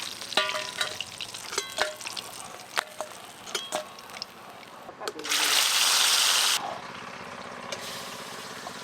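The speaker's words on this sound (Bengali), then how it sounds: "মাছগুলো খুব ভালো করে ভাজা হয়ে গেছে।" Pieces of chitol fish fry in hot oil with a loud, steady sizzle that swells midway, joined by scattered clinks and stirring noises; people talk in the background at times.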